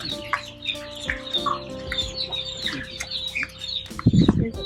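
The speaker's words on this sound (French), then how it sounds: "ce sont des poussins d'un jour" Day-old chicks in a poultry farm house for broilers peep and cheep constantly in a dense chorus, with some clucking, a steady low hum beneath and a few louder bumps near the end.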